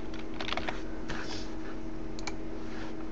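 Rapid clicking of computer keyboard keys during a Minecraft setup on a PC, a short, close burst of light irregular taps over a faint steady hum.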